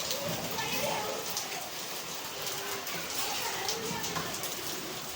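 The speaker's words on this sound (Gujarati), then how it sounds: "વરસાદ આવે જબરજસ્ત વરસાદ આવે" Steady, dense rain pours down throughout, a broad continuous hiss with a constant level and no pauses.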